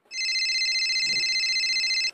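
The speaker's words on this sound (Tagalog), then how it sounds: "Oh, nag-ring yung phone mo." A mobile phone rings with a steady electronic trill, fairly clear and continuous for about two seconds, with no talking over it.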